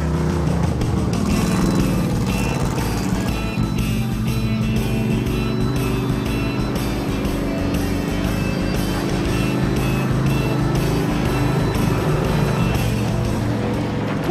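A race car built for oval turning idles and rumbles on a track in first gear, a loud, continuous low engine drone with no talking.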